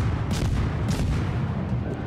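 Bombs and gunshots going off in a video game, a steady dense barrage of low booms with a few sharper bursts, loud and continuous throughout.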